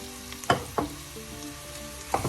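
Sliced onions fry in coconut oil for a crab roast masala, a soft hiss with a few distinct spoon scrapes and knocks against the pan.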